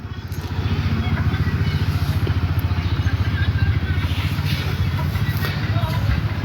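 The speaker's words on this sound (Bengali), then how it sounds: "ওই যে মোটর সাইকেলটা ব্রেক করছে" A motorcycle on a rural road runs with a steady, close, throbbing low engine rumble as it slows, continuing without a break for several seconds beneath a faint murmur of background voices.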